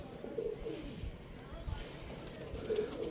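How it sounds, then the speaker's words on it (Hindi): Low pigeon coos sound a couple of times over a noisy, rumbling background, with faint indoor activity around them. "देखिए माशाल्लाह सारे ही बड़े कबूतर हैं और साथ बच्चे हैं।"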